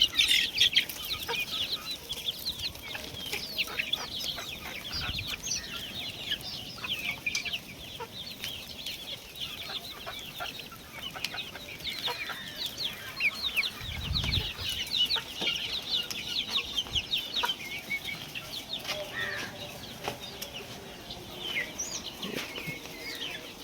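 A flock of village-breed chickens on a poultry farm in Panvel, clucking steadily and busily, with scattered wing flaps and scratching, close and continuous throughout.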